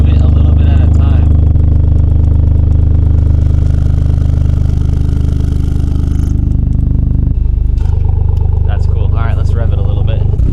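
A Toyota GR Corolla with an OTL Performance catback exhaust idles loudly and close, with deep steady rumble and rising revs in the middle before settling; a voice speaks over the engine.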